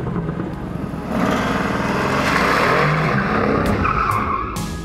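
A Dodge Viper's big V10 roars loud and sustained, swelling in the middle as it pulls hard, with a gritty, raspy tone and tire noise, heard alone for about five seconds.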